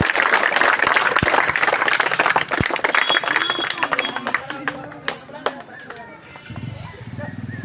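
Clapping from a crowd welcoming a speaker at a sewing and tailoring training centre opening in Teghra, loud at first then thinning to scattered claps, with a voice speaking near the end.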